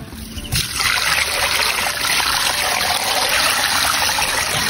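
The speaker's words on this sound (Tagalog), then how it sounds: "So maglalagay na lang tayo ng tubig" Water pours into a cooking pot holding pork hamleg, starting after a brief knock and then running as a continuous, loud, close splashing stream to the end.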